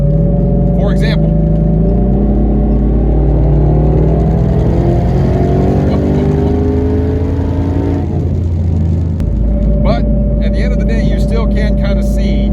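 A 1000 hp twin-turbo Mustang GT accelerates hard from highway speed, its engine roaring loudly from inside the car with a steadily rising pitch, a shift partway through, then climbing again.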